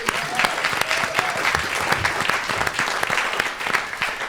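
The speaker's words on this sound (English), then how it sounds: "Please give our panel a round of applause." An audience applauds a panel at an arts discussion event, with continuous, lively clapping and distinct individual claps standing out through the steady roar for the whole stretch.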